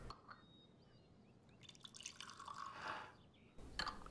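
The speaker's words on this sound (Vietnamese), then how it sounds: "Tôi rót thêm ly nước cho chị nhé." Water poured into a drinking glass indoors, a quiet splashing trickle lasting a couple of seconds, followed by a brief clink or rustle at the end.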